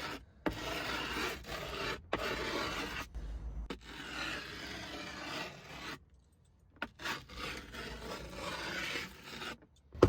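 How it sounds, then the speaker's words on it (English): A metal skate tool dragged firmly along the edge of grip tape on a skateboard deck makes a close, gritty rasping scrape in repeated strokes, broken by short pauses, with no talking. "you take your metal tool, whether it's a screwdriver or your metal skate tool, and you just work your way around the board"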